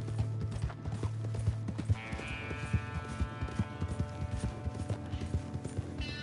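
Steady horse hooves clip-clop in a rhythmic trot in a video game, close and clear, with a soft whinny and a faint musical tone underneath.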